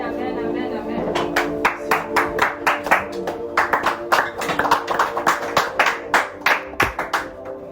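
A church congregation claps for the Lord, a long run of loud rhythmic hand claps, close and lively, over sung or spoken voices.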